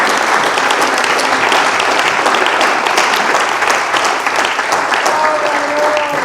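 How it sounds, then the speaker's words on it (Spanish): A church audience bursts into loud, dense applause that holds steady throughout, with a faint voice briefly audible near the end. "Fuerte el aplauso."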